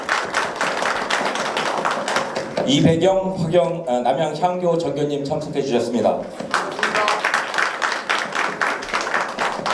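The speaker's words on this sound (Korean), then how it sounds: "큰 박수로 환영해 주시기 바랍니다." At a Korean policy forum on cultural heritage, an audience claps warmly to welcome guests, a thick round of applause that gives way to a man announcing the next attendee, then swells again into sustained clapping.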